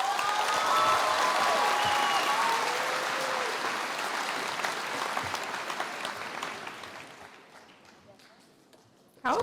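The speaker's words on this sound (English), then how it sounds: "Give them a round of applause." An audience at a UC Davis School of Medicine induction ceremony claps in a large room. The dense, steady applause mixes with a few voices and then gradually fades away over several seconds.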